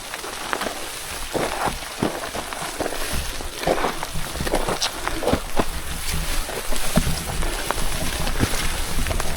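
Gusty wind buffets the microphone on a rainy mountain trail on Mount Kelud, a steady broadband roar with rain pattering throughout, close and fairly loud with no talking.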